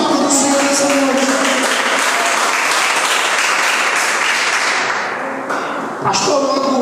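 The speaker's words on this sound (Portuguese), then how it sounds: "Vamos poder aplaudir a palavra do Senhor nessa noite." A church congregation applauds loudly and steadily during an evening service, a dense, sustained wash of clapping that fills the whole stretch and dips only briefly near the end.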